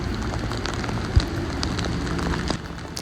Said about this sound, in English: steady rain is making for tough conditions on the streets